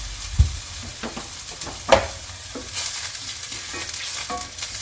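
Ginger, garlic and scallion whites frying in oil, a steady sizzle with a few sharp utensil scrapes and knocks against the pan, close and fairly loud, no talking.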